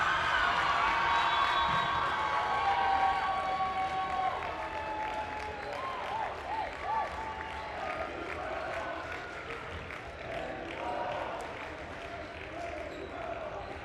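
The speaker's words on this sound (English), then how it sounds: "And that crowd is chanting, "Thank you, Redhawks,"" A crowd at a girls' varsity high school volleyball match in a gym chants and cheers steadily, a broad sustained roar with rhythmic swells and scattered whoops, a voice talking faintly over it.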